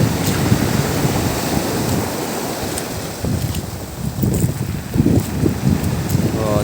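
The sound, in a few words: rough ocean waves at Anilao, Batangas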